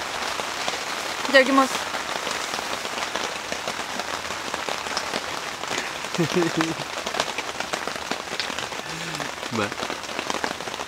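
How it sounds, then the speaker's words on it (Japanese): Heavy rain pours steadily on surfaces at an outdoor campfire meal, a dense hiss of drops throughout, with a few brief spoken remarks over it. "あまりの大雨で"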